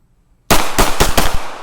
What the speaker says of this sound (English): So I was shooting a different spot.